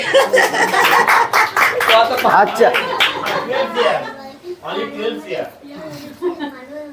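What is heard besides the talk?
people clapping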